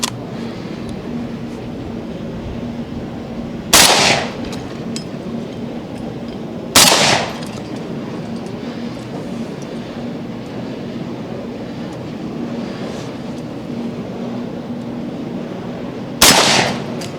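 Three loud, sharp shotgun blasts from a Remington Sportsman 48 12-gauge fitted with an old Cutts Compensator ring out at a steel target plate, spaced irregularly with quiet outdoor background between them.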